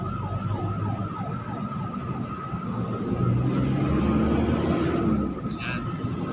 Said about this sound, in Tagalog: Ambulansya lang talaga mabilis tumakbo ngayon kahit traffic.